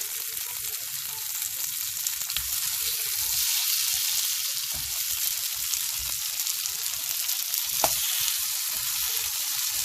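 Paneer tikka coated in masala frying in oil, a loud, continuous crackling sizzle that swells a little midway, with soft low bumps from the pan underneath and nobody speaking.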